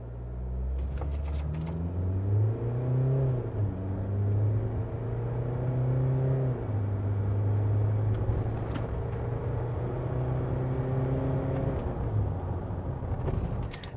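A 2022 SsangYong Musso pickup accelerates hard from 0 to 100 km/h, engine note climbing steadily through several gear changes with brief dips between shifts, heard from inside the cab at a loud, continuous level.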